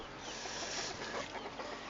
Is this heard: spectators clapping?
no